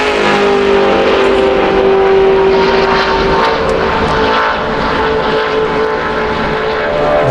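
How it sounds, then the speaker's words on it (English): NASCAR Nationwide Series stock car on a 2010 qualifying lap at Talladega Superspeedway, a loud, steady, sustained engine roar filling the whole stretch without a break. "when she turns down to start her second lap of qualifying, is what kind of speed this car picks up"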